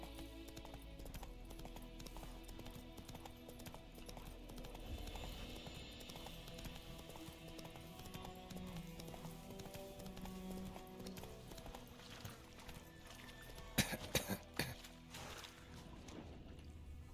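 Horse hooves clip-clopping in the video game Witcher 3, a steady rhythmic trot under a low ambient bed, with a brief louder cluster of clatter near the end.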